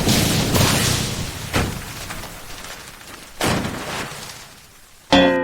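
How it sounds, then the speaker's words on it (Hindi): Loud broadband cracks and booms of thunder, several heavy bursts that decay into rumbling, ending with an abrupt sharp crackle. "बिजली कड़कने की आवाज आई"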